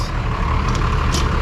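A truck's steady low diesel rumble drones close by, constant and loud, with a faint higher whine on top and no talking.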